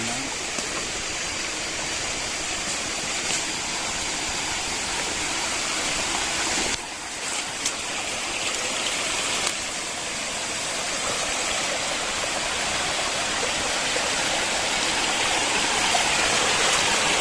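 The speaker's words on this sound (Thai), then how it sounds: "มีน้ำตกด้วยนะครับ" A forest waterfall and stream pour continuously at moderate loudness, a dense steady rush of water with no talking over it.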